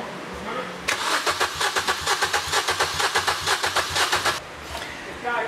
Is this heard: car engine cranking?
yes